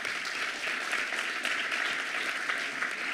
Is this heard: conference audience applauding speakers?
yes